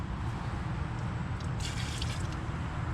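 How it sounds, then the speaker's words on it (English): Gasoline is poured down the carburetor of a Ford Galaxie engine, a soft continuous liquid trickle heard close over a steady background hiss, with no talking. "Oh my goodness, I did not mean to pour that much."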